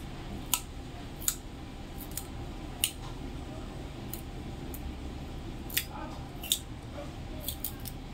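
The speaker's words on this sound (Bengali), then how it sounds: "এই যে এরকম করে আমি হেলাঞ্চ শাকগুলো কেটে নেব" Helencha greens are cut in a series of sharp, crisp snips spaced irregularly over a low steady background, each cut brief and close.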